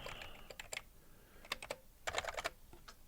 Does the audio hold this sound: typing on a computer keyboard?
yes